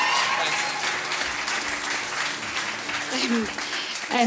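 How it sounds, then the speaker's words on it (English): Sustained audience applause fills a Celtic music concert at a festival gathering, steady and dense throughout, with a voice starting to speak near the end. "Give a big round of applause for Dave."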